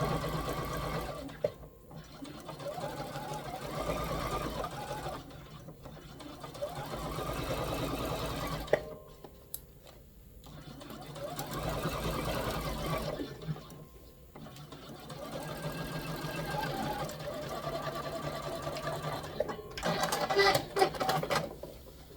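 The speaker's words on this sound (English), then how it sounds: "And I sew like about a 1/4 inch from the edge." A sewing machine stitches a side seam a quarter inch from the fabric edge in several long, steady runs with brief stops between them. It sounds moderately faint, with small handling clicks near the end.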